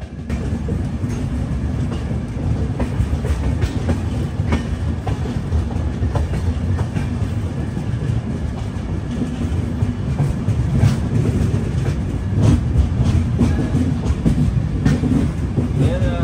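Visakhapatnam–Mahabubnagar Super Fast Express, pulled by a WAG-7 locomotive, picking up speed, with a loud steady rumble and rhythmic clickety-clack of the wheels, heard from inside the moving train.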